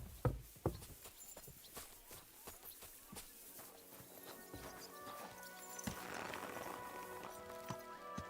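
A horse moves in a Kingdom Come Deliverance 2 game scene, hooves clip-clopping in an irregular run of sharp strikes, fairly close, over faint background ambience.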